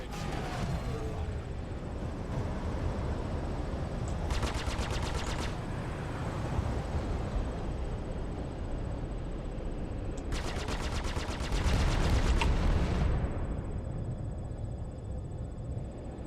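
Rapid bursts of gunfire strike a ship's shields during a Star Citizen space dogfight, two dense rattling volleys standing out over a constant loud engine and combat roar.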